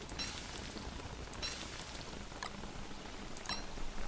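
Rain falls in the desert in the video game Don't Starve, a steady soft patter of drops with a few brief brighter ticks, continuous and moderately quiet throughout.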